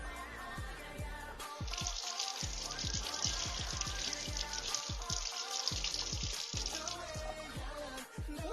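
Tap water runs while food is rinsed under it, a steady splashing rush over several seconds with faint clatter and low background sounds, heard fairly quietly.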